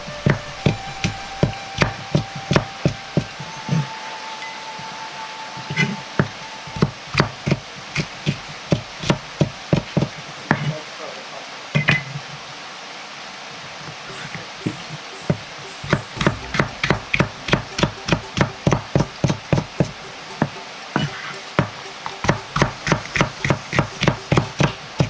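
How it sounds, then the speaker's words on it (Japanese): A knife cuts halved, lightly flattened green bell peppers into thin strips on a wooden board, giving a long run of quick, crisp, evenly spaced taps that pause briefly before resuming, close and clear with no talking. "半分に切ったピーマンを軽く押しつぶして細切りにします"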